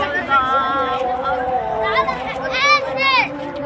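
Children chatter and shout excitedly in a street on the way to Eid prayer, bright overlapping young voices rising and falling close by amid general hubbub.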